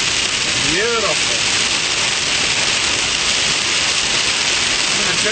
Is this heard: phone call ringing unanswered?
no